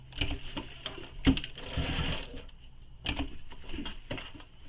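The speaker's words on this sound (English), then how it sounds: "stitching straight across the strap and the handle" A sewing machine runs steadily, stitching straight across a handmade backpack's strap and handle, with a buzzing whir that pauses briefly and starts again at close range.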